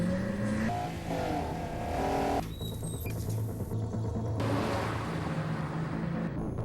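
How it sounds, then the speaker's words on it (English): Acura TL Special Edition with 280 horsepower, its engine revving loudly and steadily over a backing music bed, the engine note sustained throughout with no voices. "The Acura TL Special Edition with 280 horsepower."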